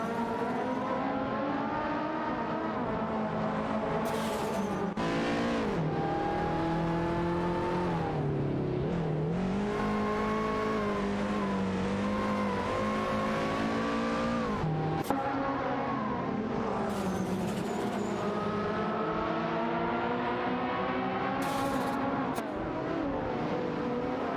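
Toyota race cars racing in a sim racing video game, steady loud engine drone with rising and falling revs through gear changes, other cars buzzing alongside, continuous with no talk.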